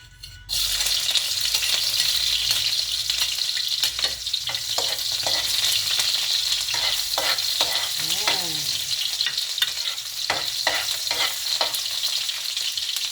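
Spices sautéing in oil for sardines with misua, a loud close sizzle that starts abruptly and holds steady, with scraping and stirring clinks over the frying.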